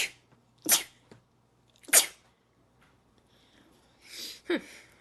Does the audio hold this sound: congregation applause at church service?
no